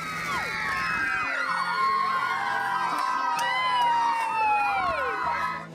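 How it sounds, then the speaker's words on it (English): Children cheer and shout in a lively crowd as Santa Claus steps off the Indian Pacific Outback Christmas train, high excited whoops and yells rising and falling continuously over a busy outdoor scene. "the kids erupt with a cheer."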